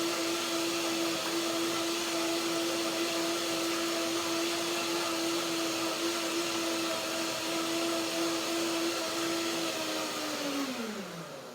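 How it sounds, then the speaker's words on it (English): A kitchen blender purees cashews into a creamy mayonnaise, a loud, steady high-pitched whirring motor drone that holds for about ten seconds before winding down as it switches off. "But the cashews, they need to be creamy. So blender dance for that."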